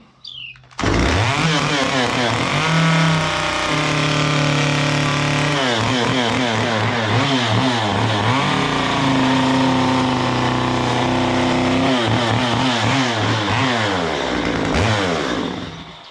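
A chainsaw revs and cuts steadily into wood while carving a simple gnome figure, loud and close, with the engine pitch dipping and rising through repeated cuts and no talk.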